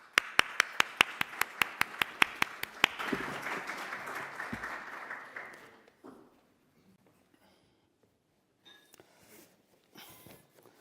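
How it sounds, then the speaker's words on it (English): At Hyphen Festival 2025, an audience welcomes a guest to a fireside chat. A few slow, evenly spaced claps swell into a full round of applause that fades out after a few seconds, then gives way to quiet talk. "Please give him a round of applause."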